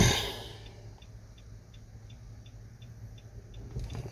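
Nissan Rogue engine cranking with a steady starter rumble and faint repeated ticking, then dying away into quiet; nearby and moderately soft, with no talk.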